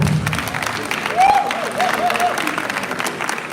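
Award ceremony attendees at a youth leadership event applaud in a moderate, continuous patter, with voices and a brief cheer mixed into the crowd noise.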